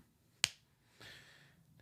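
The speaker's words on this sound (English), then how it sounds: "Clap, clap, clap, clap." A single sharp hand clap for an audio sync test rings out alone, followed a moment later by a brief, soft rustle of noise.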